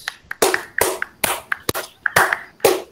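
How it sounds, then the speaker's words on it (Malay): Classroom applause for primary schoolchildren, a small group clapping in bursts, with claps arriving at an irregular pace, close and fairly loud over about three seconds. "yang lain beri tepukan gemuruh kepada Akif dengan Haras"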